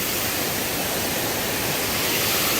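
Rushing water pours from a waterfall into a river in a North Carolina state park, making a loud, constant broadband roar that fills the whole clip with no talk.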